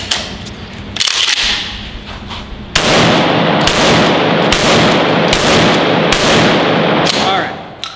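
A Remington Tac-14 pump shotgun firing 2¾-inch slugs outdoors, several loud booming blasts in sequence with heavy ringing echo and rumble between shots.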